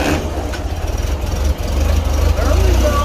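A Farmall Cub tractor engine runs unevenly just after a cold start on a freezing day, with a low pulsing chug near the microphone and some faltering at the midpoint.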